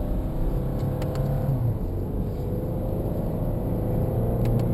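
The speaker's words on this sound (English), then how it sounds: "you really hear that throaty intake note of this engine as well" A sports car engine gives a low, throaty intake rumble heard from inside the cabin, steady and continuous with mild revving swells, no talking over it.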